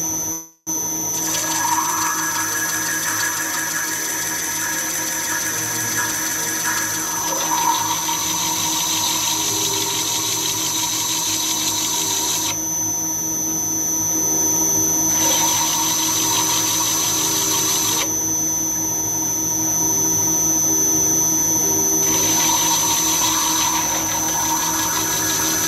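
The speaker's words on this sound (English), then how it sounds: "I'm just grinding the two pieces of glass that I've added onto the end of my piece here." A glass grinder works two added pieces of dichroic glass on the end of a glass piece, giving a steady, continuous wet whirring hum with a high whine that rises and falls in intensity; no voices.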